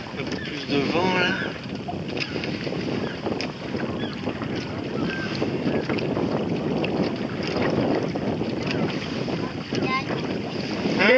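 Wind rushing on a Pacer 2 sailboat in Morlaix Bay, with continuous blustery noise buffeting the microphone and water sloshing against the hull; occasional faint voices.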